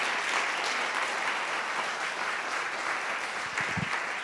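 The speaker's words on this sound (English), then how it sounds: "Another round of applause for everything that you brought us today." Audience applause at a workplace diversity talk, a dense, even wash of many hands clapping that holds steady throughout at moderate loudness, with a few low thumps near the end.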